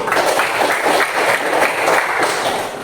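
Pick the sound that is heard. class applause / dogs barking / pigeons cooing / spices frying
class applause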